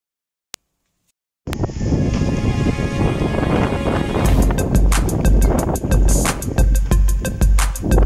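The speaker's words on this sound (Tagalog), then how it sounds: "Lakas ng hangin." Strong outdoor wind roars and buffets a microphone almost continuously after a short silence, with gusty low rumble during an outdoor sound-system setup for a provincial wedding dance.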